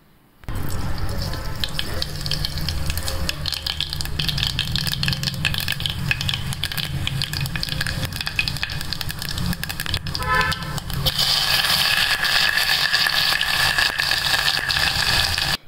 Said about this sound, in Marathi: त्यासाठी तेल हे भरपूर प्रमाणात घालायचे. सगळं व्यवस्थित त्यामध्ये फ्राय करून घ्यायचं.